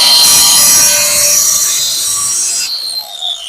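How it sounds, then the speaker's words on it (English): An angle grinder sharpens a Honda HRN216 lawn mower blade in one pass, a loud, harsh metallic screech with a sustained high whine that cuts off near the end and leaves a fainter ringing tail. "I'm going to make one swipe on the other side with the grinder to get a flat,"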